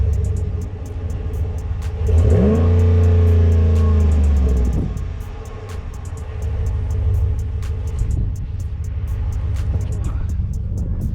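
A 2020 Ram 1500 Longhorn pickup truck's engine rumbles low and steady, swelling louder for a few seconds as it revs, with people talking in the cab.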